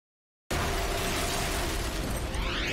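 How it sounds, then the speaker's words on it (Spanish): A series of explosions tearing through New York City erupts abruptly after a short silence into a dense, sustained roar of blast noise and rumbling debris, loud and continuous throughout. "Una serie de explosiones desgarra la ciudad de Nueva York."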